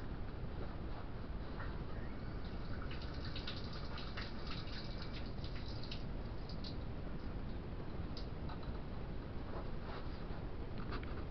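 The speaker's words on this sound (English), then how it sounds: "And then you wash your hands." Tap water runs steadily in a home kitchen as hands are washed, a faint, continuous gushing with small splashes and no voices.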